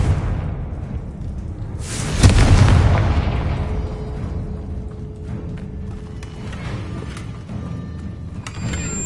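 A Confringo spell explosion in the video game Hogwarts Legacy: one loud booming blast that rumbles and slowly fades over several seconds, followed by quieter mechanical game effects.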